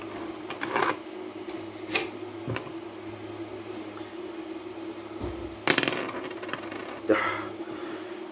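Dice rattling and clattering in a tabletop battle game with toy army men, several short bursts of tumbling clicks at irregular intervals over a steady background hum.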